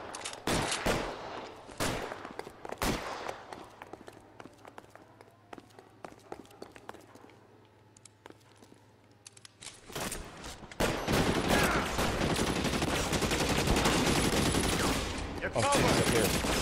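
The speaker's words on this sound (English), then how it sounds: "Lay down some covering fire." Bursts of covering gunfire in the video game L.A. Noire, with sharp shots and rapid volleys early on, a quieter stretch, then dense, sustained firing, while footsteps and game noise sit underneath.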